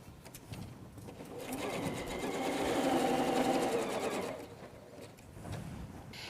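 A sewing machine chain-pieces fabric for a bench pillow, its stitching rattle swelling to a busy, fast run for about three seconds, then dropping away. Quieter clicks and handling noises come before and after it.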